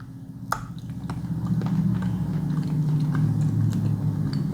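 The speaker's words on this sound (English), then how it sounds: "I'm going to bite it in half" Teeth bite into a white chocolate wafer with bugs in it, giving one sharp crack followed by close, moist chewing that runs steadily.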